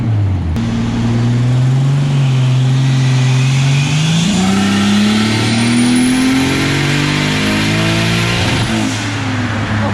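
A turbocharged 3.0L M52 engine in a BMW E30 revs through a dyno pull, its loud, close note climbing steadily in pitch over about ten seconds with a high turbo whine rising near the end.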